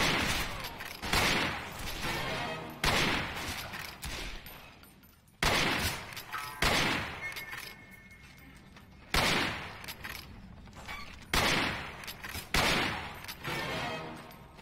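Video game gunfire rattles in repeated loud bursts of rapid shots, each volley about a second or two long and separated by brief gaps, close and dense with no talk.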